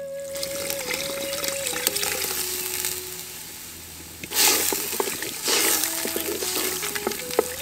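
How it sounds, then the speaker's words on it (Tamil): Water poured into goat meat in a cooking pot for mutton chukka, a soft trickle and splash rising midway and again shortly after, close by with faint kitchen tones and no talk. "இப்ப கறி வேகிறதுக்காக கொஞ்சம் தண்ணி ஊத்தி"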